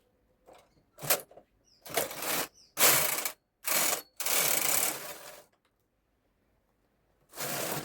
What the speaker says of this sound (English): I'm going to knit right now and push my carriage on hold, then knit one row